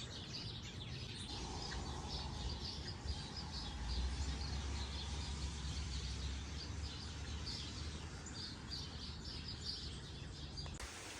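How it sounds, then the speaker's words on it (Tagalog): Birds chirp outdoors in New York on a rainy late afternoon, repeated quick high tweets from several birds at moderate distance over a low steady rumble of background noise. "May mga ibon din dito, no?"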